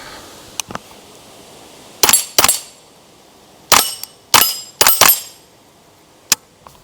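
Rimfire rifle shots from a 10/22 ring off steel targets in sharp, bright cracks: two faint early hits, then a quick pair and several more spaced strikes, each with a short metallic ring.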